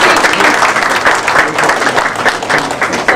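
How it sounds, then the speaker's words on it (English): An audience at a children's show breaks into loud, continuous applause for a group of young engineering students, a thick, steady clatter of many hands heard close up for the full length. "so everybody give them a round of applause."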